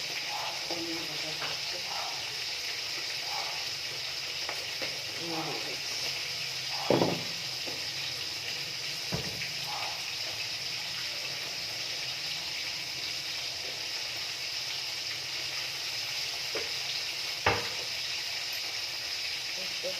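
Steady sizzle of fish frying in oil, moderately close, with a few sharp clinks of a utensil against the pan.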